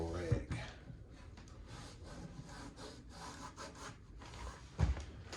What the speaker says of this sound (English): we're going to wipe this with our rag